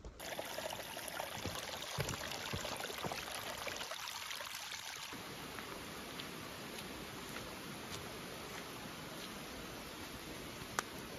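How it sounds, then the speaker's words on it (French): A mountain stream in the Écrins-Pelvoux area rushes steadily as a broad, constant hiss of flowing water, moderately distant and unbroken, with no voices. "J'entends déjà le cours d'eau."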